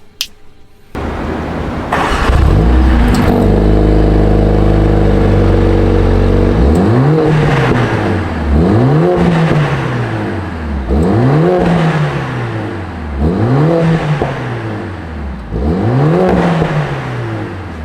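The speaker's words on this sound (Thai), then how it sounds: "หลายๆคนใช่ไหมฮะอยากจะฟังเสียง A45s นะครับ ไปไปฟังกัน" A 2021 Mercedes-AMG A45 S 4MATIC+ engine starts with a bark, then revs repeatedly in sharp bursts, each climbing and dropping, loud and close with a throaty, crackling tone.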